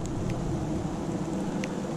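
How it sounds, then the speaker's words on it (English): Steady rain hisses down outdoors during a metal-detecting hunt, an even wash of close patter with no voices over it. "Is it raining? It's flipping raining."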